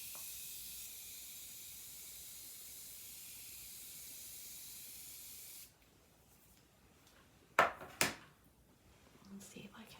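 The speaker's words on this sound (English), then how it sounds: "I'm gonna try the regular setting spray I normally use" A long, steady hiss of makeup setting spray misting from a bottle up close, lasting several seconds before cutting off, followed by a couple of soft handling knocks and faint rustling.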